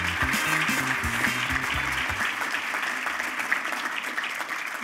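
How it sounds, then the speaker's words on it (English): Sustained audience applause fills a hall at a city's State of the City presentation, a steady dense wash of clapping that holds at even loudness throughout, with a low musical tone fading out in the first half. "Join me in giving them a huge round of applause for their support for this program"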